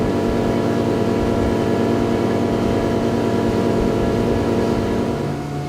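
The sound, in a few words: motorboat engine at full throttle with motor trimmed up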